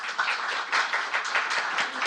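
Audience clapping at an AI conference in Zagreb, a soft, steady patter of many hands heard from a distance, brief and without speech.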